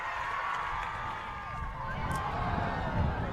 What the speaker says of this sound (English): this crowd is getting a little rowdy right now, definitely involved